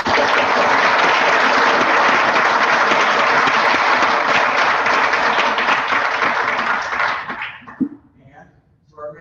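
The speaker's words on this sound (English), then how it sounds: "I think that deserves an applause." An audience at a high school graduation ceremony applauds loudly, with dense sustained clapping that holds steady for several seconds, then tapers off quickly and leaves a few scattered claps.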